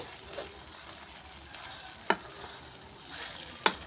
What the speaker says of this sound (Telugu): అల్లం పేస్ట్ కొంచెం వేగేంత వరకు ఈ విధంగా ఫ్రై చేసుకోవాలి